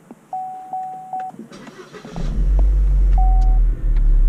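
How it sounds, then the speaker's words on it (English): A Holden Cruze engine starts by push button after a few short electronic beeps, catching with a quick crank and settling into a steady, close, low idle rumble. "Car starts."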